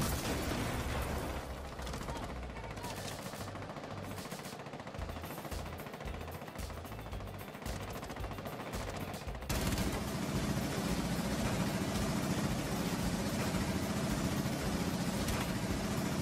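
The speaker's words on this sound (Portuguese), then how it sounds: "pode acontecer de você atirar e simplesmente a sua arma não parar de fazer barulho" Rainbow Six Siege gunfire caught in an audio bug that keeps firing: a sustained, loud mechanical rattle of rapid shots that runs on without pause, becoming denser and harsher partway through.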